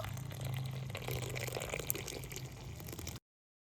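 Tea is poured into a cup in a steady liquid stream lasting about three seconds, close and continuous, then stopping abruptly.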